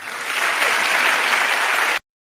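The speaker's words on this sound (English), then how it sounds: "That was an applause line." An audience at a TEDx talk claps in a dense, steady burst that builds quickly, holds for about two seconds and then cuts off abruptly.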